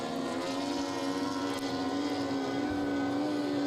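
Mercury and Evinrude outboard engines on racing boats at a boat race, a steady sustained high-pitched engine whine, loud and continuous, with no talk.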